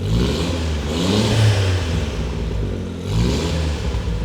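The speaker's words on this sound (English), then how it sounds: "The exhaust is not too loud at all." A nearby Suzuki Cappuccino's engine revs up and down twice, the exhaust rising to a throaty whir, dipping briefly, then climbing again.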